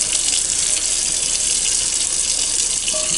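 Steady tap water gushes loudly and continuously into a sink, rinsing a new cast iron skillet during its first wash before seasoning, with no voices.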